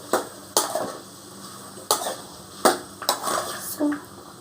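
A spoon scrapes and clanks around a pan of snake gourd curry, Andhra-style with milk, giving several sharp, irregular metallic strikes over a faint sizzle.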